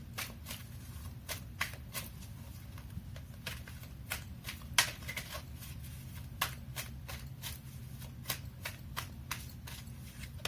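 Tarot cards being shuffled and drawn, a quiet series of quick flicking riffles and snaps at uneven intervals over a soft low hum.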